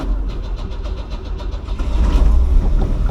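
A 1982 Opel Kadett 1.2 estate car runs close by after being started on a freshly fitted used battery, its engine a loud, rough, pulsing rumble that grows stronger and steadier partway through.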